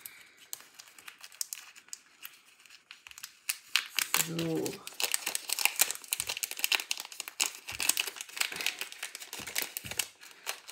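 A small plastic bag being worked open by hand, close crinkling and rustling with sharp crackles and a brief tearing rip, faint at first then busy, with a short spoken word midway.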